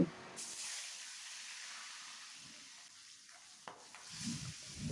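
Fish heads frying in hot mustard oil in a kadai for moong dal, a steady soft sizzle and hiss with occasional crackles and a faint stirring scrape, close and fairly quiet with no talk.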